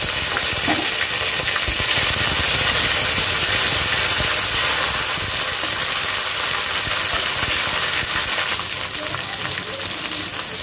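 Leaves dropped into hot oil for aloo dum, a loud, steady sizzle and crackle of frying that fills the whole stretch without pause, close and dense.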